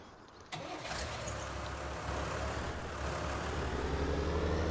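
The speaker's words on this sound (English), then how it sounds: "let's hop in the tractor here and get started. I do just have the Ford 7840." A Ford 7840 tractor engine cranks and catches in Farming Simulator 19, a sudden start followed by a steady, loud low idle rumble that continues without talk.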